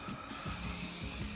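Hair texture spray hisses from an aerosol can in a steady, close, continuous burst that starts just after a brief pause and runs to the end.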